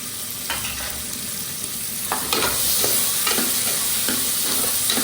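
Onions sautéing and being stirred in a pan for vegetable rice, a close steady sizzle broken by several scraping spatula strokes at irregular intervals.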